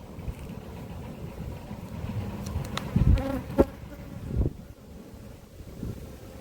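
Bees buzz steadily close by in a dense, droning hum inside a hive at an apiary, with wind noise and occasional bumps and handling sounds over the top.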